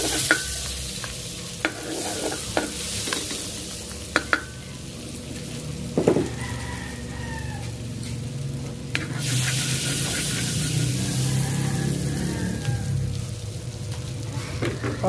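Butter sizzles and fries in a hot pan for a Filipino beef steak with mushrooms, a steady crackling hiss with occasional clinks and stirring knocks throughout.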